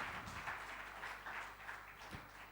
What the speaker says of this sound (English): Do we have a huge round of applause for Abhay,